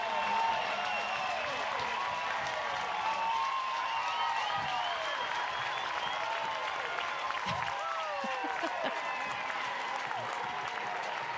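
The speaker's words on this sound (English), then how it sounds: "Listen to this crowd." Stadium crowd at a college softball game, Oregon Ducks versus Stanford, roars and cheers steadily and loudly throughout, a dense sustained wall of voices and clapping with a commentator's voice faintly underneath.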